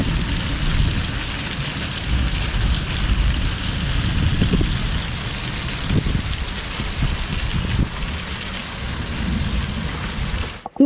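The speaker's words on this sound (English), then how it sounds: "Yep, it's raining." Steady rain falls throughout on a farm in central Portugal, a dense hiss of drops on surfaces with occasional low rumbles, ending with a short handling noise.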